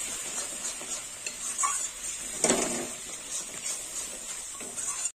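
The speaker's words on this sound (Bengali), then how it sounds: "টক দই দিয়ে এবার কষে নেব।" Spices being sautéed with sour yogurt in a pan for a Bengali bhetki fish-bone kalia, giving a steady moderate sizzle with stirring scrapes and a louder clatter midway, no talking.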